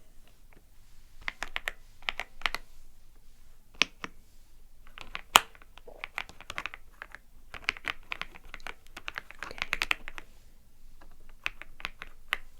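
Steady typing on a creamy-sounding computer keyboard, quick bursts of soft keystrokes with short pauses, close and fairly quiet with no talking.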